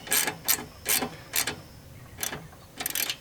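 Short bursts of ratcheting come from a wrench tightening 11 mm nuts on a zero-turn mower's LED light bracket, about six quick clicking runs separated by brief pauses, close and fairly loud.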